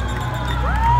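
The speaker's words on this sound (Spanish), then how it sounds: "Fuerte el aplauso para la policía montada." A crowd at a public event cheers and whoops for a mounted police division, with excited shouts rising and a whistle-like sweep near the end, steady and fairly loud throughout.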